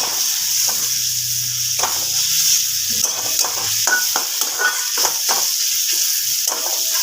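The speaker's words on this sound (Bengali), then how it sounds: "এবার এটাকে খুব ভালোভাবে নাড়াচাড়া করে নেব" Spiced boal fish curry with Kashmiri red chili powder sizzles steadily in hot oil while a spatula scrapes and stirs in repeated strokes, with no talking.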